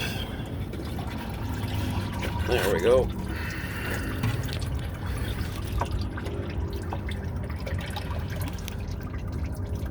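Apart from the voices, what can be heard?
used motor oil pouring from an oil filter into a drain pan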